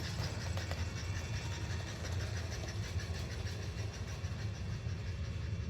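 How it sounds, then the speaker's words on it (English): An American Models model steam engine runs with a mechanical chuff, a rapid, regular train of soft puffing beats over a low motor hum, close and steady. "So that's mechanical chuff"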